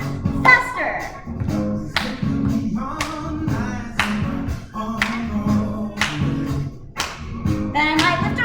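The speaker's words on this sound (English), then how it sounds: "So we go, step, clap, step, clap, step." Stepping and clapping to the beat during a dance warm-up for actors, with sharp rhythmic claps roughly once per second over music, close and fairly loud.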